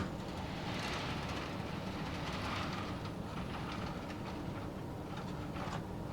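A model railroad train rolls along a layout during an operating session, giving a steady close rumble with faint clickety-clack wheel rhythm throughout and no speech.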